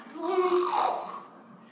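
A bear snoring in a children's story, one long drawn-out rumbling snore with a harmonic, voice-like quality that swells and fades, most likely a narrator imitating the sound.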